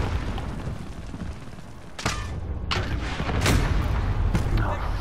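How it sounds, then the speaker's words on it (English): Grenade blasts in Call of Duty: Modern Warfare gameplay, several sharp booms at intervals over steady battlefield noise, with a player talking throughout. "Grenade out."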